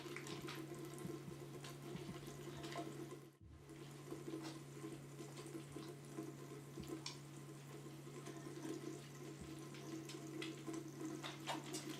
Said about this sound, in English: As the water flows toward your fingertips, soil and contaminants wash off your skin and down the drain.